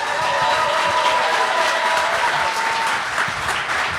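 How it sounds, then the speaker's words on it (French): A crowd at a comedy bar in Gatineau applauds a comedian after his Gong Show set, with steady, loud clapping sustained throughout and faint voices underneath. "On peut l'applaudir."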